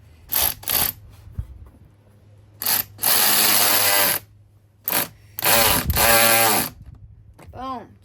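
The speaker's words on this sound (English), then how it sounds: "Then we can go ahead and do the band clamp" Band clamp on a Mishimoto cold air intake in a Jeep JL being run down with a power driver, in short buzzing bursts and then longer whirring runs, close and loud, with a few clicks between.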